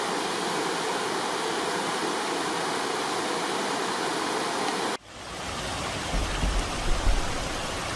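A steady, loud roar of a 6 to 7 metre waterfall in the Jura, broadband and continuous, with a brief shift in tone partway through.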